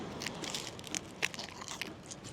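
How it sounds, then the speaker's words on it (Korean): Close, crisp crunching bites into a fried twisted doughnut studded with green onion, a few sharp crackly snaps over soft chewing, with no talking. "근데 씹을 때마다 표면이 씹히면서 바삭바삭바삭."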